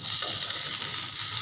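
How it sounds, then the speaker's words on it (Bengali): Pointed gourd slices sizzle steadily in a pan of hot oil, with soft stirring scrapes over a continuous close frying hiss. "পোটোল ভাজা"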